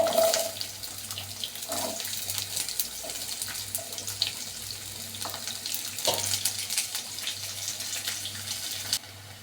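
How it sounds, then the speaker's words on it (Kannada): Mustard and cumin seeds crackle and sizzle in hot oil in a pan as the tempering for capsicum palya is made, with a steady spattering hiss and scattered sharp pops close by. "ಇದು ಚಟಪಟ ಅಂತ ಇದೆ"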